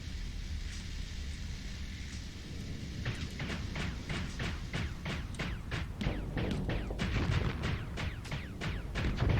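Missiles firing in a Starsector space combat game, a rapid volley of sharp launch bursts and explosions starting about three seconds in over a constant rumbling engine drone, loud and close with no talk.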